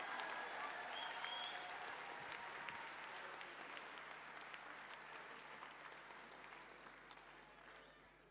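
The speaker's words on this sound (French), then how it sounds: "On les applaudit bien fort, s'il vous plaît," Breakdance battle audience applauding at the end of a quarter-final round, a dense, steady wash of clapping that carries at even strength throughout and fades slightly toward the end.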